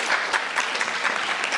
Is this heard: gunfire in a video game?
no